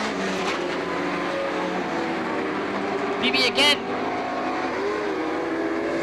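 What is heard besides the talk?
race cars passing on speedway track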